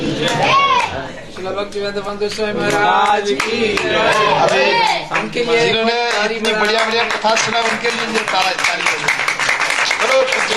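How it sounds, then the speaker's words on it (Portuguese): A crowd at a Gopastami festival gathering in Mathura, India, applauds the festival organizers, with scattered clapping that grows denser toward the end beneath a man's continuous speech. "aqueles que organizaram esse festival aqui, uma salva de palmas"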